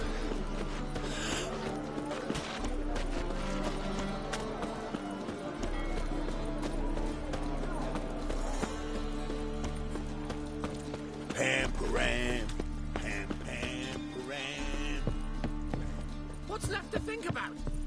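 Horse hooves clip-clop steadily through The Witcher 3, carrying on beneath a swelling orchestral score while characters talk over it.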